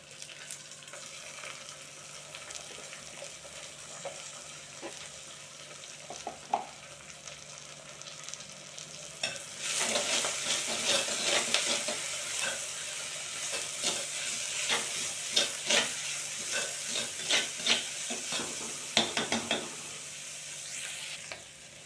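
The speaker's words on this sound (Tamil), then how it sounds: "கீரை கொஞ்சம் வதங்கிருச்சு" Drumstick leaves sauté with onion in a pan: a quieter sizzle at first, then a louder, dense frying crackle with repeated spatula scrapes and stirring clatter heard close by.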